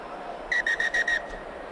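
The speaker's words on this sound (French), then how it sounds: "Un coup de sifflet parce qu'il y a un autre ballon sur le terrain." A referee's whistle at a Leeds versus Wigan rugby league match gives five short, sharp shrill blasts in quick succession over a low crowd murmur.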